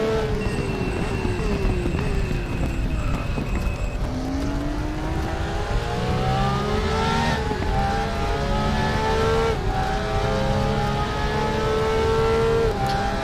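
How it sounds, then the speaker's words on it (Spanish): Porsche 911 GT3 R race car engine in the RaceRoom racing game at Hockenheimring, revving loudly and steadily through gear changes, with rising and falling pitch sweeps throughout and no talk. "a escuchar ese motor espectacular de este GTR3, de este Porsche"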